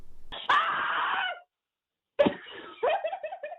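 A caller's recorded scream into a scream hotline bursts out loud and strained, breaks off into silence, then returns as a second ragged yell trailing into broken, gasping cries.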